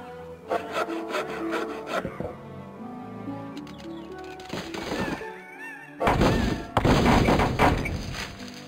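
A wooden sawhorse being sawed in the Monkey Island 3 video game, with rough rubbing and rasping strokes and some woody thunks, broken up by bursts of game music and effects.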